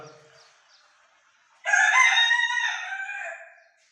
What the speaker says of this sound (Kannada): ಪಂಜರದೊಳಗೂ ಅವೆ ನೋಡಿ ನಾಟಿ ಕೋಳಿ